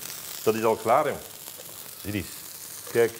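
Steak sizzles steadily in a frying pan, a soft continuous hiss beneath someone speaking Dutch in short phrases close by.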